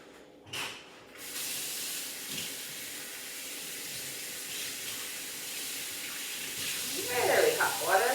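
Very hot water runs from a kitchen tap in a steady broad hiss, a sink filling beside an oven. The flow swells and splashes louder toward the end.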